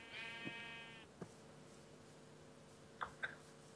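Sheep in the Minecraft video game bleat faintly, a long wavering call at the start followed by several short bleats scattered later over a quiet background.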